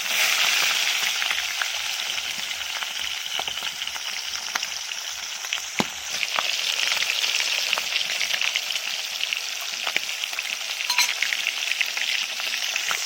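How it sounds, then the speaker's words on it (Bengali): Rohu fish heads fry in hot oil with a loud, continuous close-up sizzle and crackle, broken by a few sharp pops and brief clatters of a utensil, with no one speaking. "তেল গরম হয়ে গিয়েছে এবার আমি মাথাগুলো ছেড়ে ভাজার জন্য"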